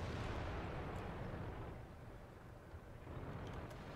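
A tank cannon in World of Tanks fires from a 50B, a low, rumbling boom that rolls and slowly decays into a dull, distant roar, heard alone without talk.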